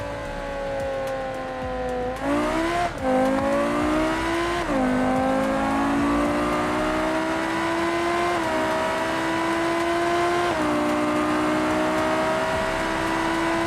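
A GD808 hypercar in the BeamNG Drive video game accelerates flat out in a top-speed run, its engine note climbing in a long whine broken by a few quick gear-shift dips, loud and continuous.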